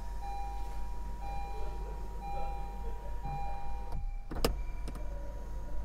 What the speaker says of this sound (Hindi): जो गाड़ी के अंदर आपको सनरूफ मिलेगा वो आप इसको यहाँ से एडजस्ट कर सकते हैं